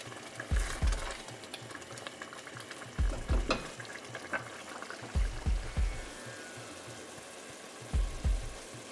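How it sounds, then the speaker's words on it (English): Curry bubbles and sizzles steadily in a pot, with occasional low thumps and stirring knocks, no talking. "You can hear the curry just boiling away."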